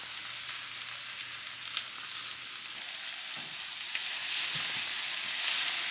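Garlic and black bean garlic sauce frying in a pan for mussels: a steady, close sizzle that grows louder and brighter toward the end, with occasional stirring scrapes.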